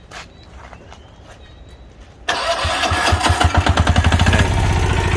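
A single-cylinder diesel engine on an old Japanese Hanix H05 mini excavator cranks and catches after quiet background, then runs with a loud, rapid rhythmic chugging close by.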